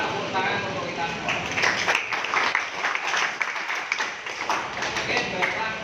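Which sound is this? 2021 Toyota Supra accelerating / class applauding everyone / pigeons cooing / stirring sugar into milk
class applauding everyone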